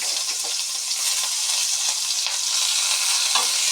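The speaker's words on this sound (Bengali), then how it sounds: "এখন কড়াইতে তেল দেওয়ার পর হিট হয়ে আছে এখন দিয়ে দিলাম পেঁয়াজ" Onion goes into hot oil in a wok and fries with a loud, constant sizzle up close. Faint stirring scrapes sound now and then, with no voices.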